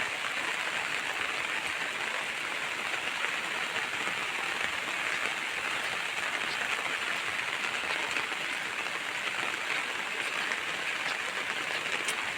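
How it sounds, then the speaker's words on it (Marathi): Steady monsoon rain falls continuously in rural Konkan, a soft even hiss of drops on surfaces with no voices and no change in intensity. "सर्वत्र पाऊस असा मस्तपैकी पडतोय आहे"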